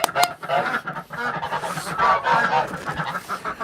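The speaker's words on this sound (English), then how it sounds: "Oh, so much goose noise." Geese honk continuously in a dense, overlapping chorus, loud and close, with no talking over them.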